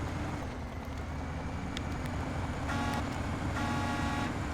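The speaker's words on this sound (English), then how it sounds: "There's a horn." Two short, flat truck horn toots in a video game sound over a steady, heavy engine rumble, the second slightly longer than the first.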